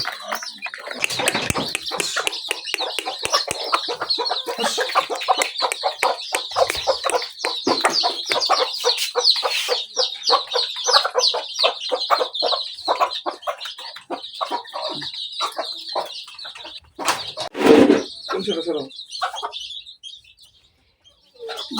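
Two farmyard hens lead their chicks, clucking repeatedly up close while the chicks keep up a constant high peeping chorus, with a louder squawk near the end.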